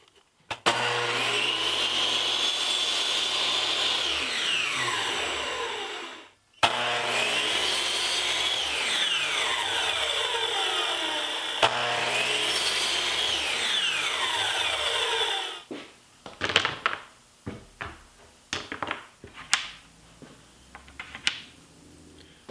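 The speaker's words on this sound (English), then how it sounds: "now I'm cutting the 7-degree angle molding into 1-inch blocks" A chop saw slices 7-degree angled wood molding into one-inch blocks: three long whining cuts, each spinning up and winding down, followed by a run of short knocks and clatters as pieces are handled.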